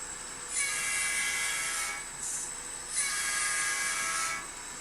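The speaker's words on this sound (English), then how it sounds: "those are scale trains locomotives" A high-pitched electric whine rises and cuts off twice in steady bursts as N scale model train locomotives run on a layout, with no talk.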